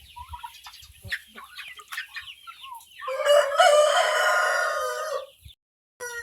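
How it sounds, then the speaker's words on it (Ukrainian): Turkeys call close by: scattered clucks and chirps, then a long, loud, drawn-out bird cry of a couple of seconds before falling quiet. "А такі вже мої індики, видите,"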